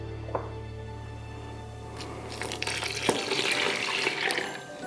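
Warm water pours into a pot of dry playdough ingredients, a steady splashing wash that starts after a low hum cuts out and then continues close and fairly loud for a couple of seconds.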